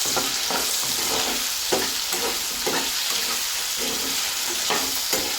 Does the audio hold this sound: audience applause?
no